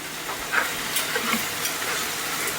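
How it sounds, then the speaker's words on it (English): Ground meat and onions fry in a hot pan, a steady close sizzle with soft stirring clicks and scrapes throughout. "Now, I get my meat, onions, and stuff cooked up."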